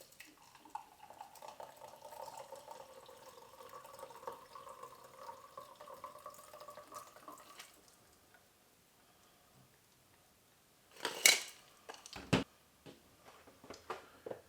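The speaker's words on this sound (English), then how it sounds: "I'm going to put this strainer over it, tea strainer, and pour" An espresso martini is poured from a cobbler shaker through a tea strainer, with a steady trickle of liquid for several seconds. After a pause come a few louder clinks and knocks of glass and metal.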